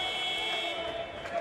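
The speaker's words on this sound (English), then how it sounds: "the final seconds tick down, and we have the buzzer" Period-end buzzer sounding in Tondiraba Ice Hall, Tallinn, at an under-20 men's ice hockey world championship game, a sustained steady tone held over loud arena crowd noise for the whole moment.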